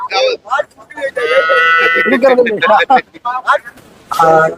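A calf lets out a long, low moo up close at a cattle market in Erode, surrounded by people talking nearby.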